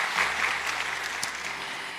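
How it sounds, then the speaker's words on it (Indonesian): A church congregation applauding for Jesus, a dense, steady wash of clapping from many hands that holds at an even level, with no speech over it. "Tepuk tangan yang meriah buat Tuhan Yesus."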